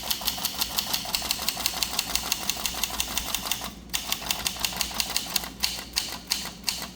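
An 1896 Williams No. 3 typewriter prints in a rapid, even rhythm of sharp metallic keystrokes, slowing to a few spaced strikes toward the end.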